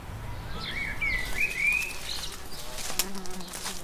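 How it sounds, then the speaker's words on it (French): Bees buzz faintly around a flowering ceanothus shrub in a garden, a soft steady hum with a few bird chirps and insect passes mixed in. "Vous entendez ce bourdonnement?"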